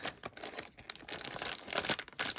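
Tape crackling and tearing as it is pulled off a roll, a close, continuous run of crinkly rips and rustles over a couple of seconds.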